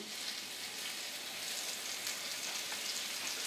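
Portobello mushroom caps fry gill side down in a pan with a constant soft, crackly sizzle, close and even, with no talking.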